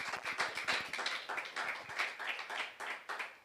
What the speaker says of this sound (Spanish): démosle un aplauso al Señor por eso